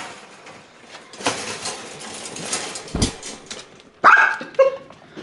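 A dachshund puppy gives two short, sharp yips near the end, heard close after a stretch of rustling and handling noise.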